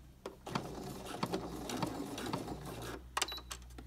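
A sewing machine runs a straight stitch at length 3 through fabric, a steady close mechanical whir lasting about two and a half seconds, then a brief pause and a couple of short bursts for backstitching.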